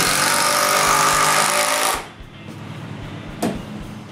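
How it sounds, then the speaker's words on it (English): A power drill drives screws into small wooden triangles on the front rafters above the gable windows of a new shop frame, a loud continuous whine for two seconds, then a short burst follows after a pause. "I screw little triangles on the front rafters on top of the gable windows"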